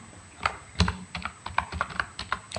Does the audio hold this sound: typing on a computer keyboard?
yes